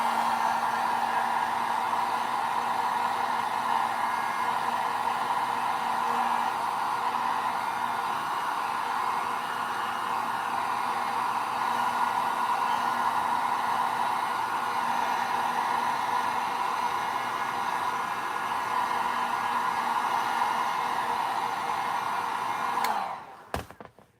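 A heat tool blows hot air steadily onto a Star Wars action figure diorama, giving a close, even, loud whoosh that runs unbroken for more than twenty seconds before cutting off abruptly.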